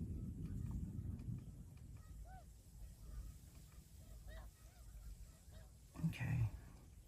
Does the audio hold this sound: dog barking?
no